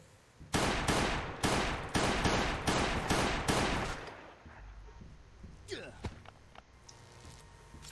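Rapid handgun fire in the Last Day on Earth survival game, aimed at parasites spawned by a boss, comes as a string of about seven loud, evenly spaced shots followed by quieter scuffling and scattered thuds.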